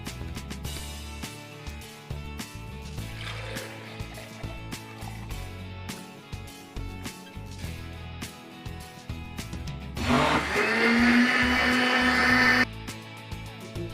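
A blender whirs through tamarind and plum sharbat, a steady motor hum that rises into a louder, higher churning whine for a few seconds near the end before cutting off.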